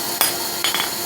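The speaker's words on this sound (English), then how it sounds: "we'll just put it on the anvil and hammer it off to the center" Hot metal is hammered on an anvil while a two-sided taper is forged into a three-sided one, giving sharp, ringing close strikes: one blow, then a quick pair, over steady background noise.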